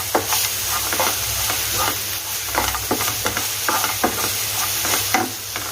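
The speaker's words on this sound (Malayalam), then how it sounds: "അത് ഇതിലേക്ക് അങ്ങ് ഇട്ട് കൊടുത്തിട്ട് ഒന്ന് വഴറ്റിയെടുക്കാം." Cashew nuts sautéing with cooked plantain in a pan, giving a steady sizzle under repeated scraping and stirring strokes at an uneven rhythm, close and fairly loud, with no talk.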